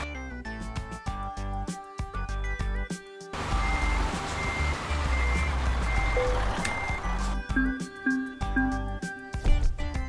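In the Euro Truck Simulator 2 game, a truck backs into a parking spot with rapid, regular reversing beeps over a low engine rumble, which briefly gives way to a louder engine roar before the beeping returns.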